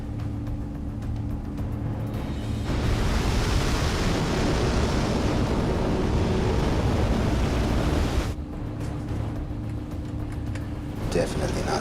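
Stormy ocean waves surge into a loud, roaring wash of water and wind that holds for several seconds before dropping back to a quieter rumble.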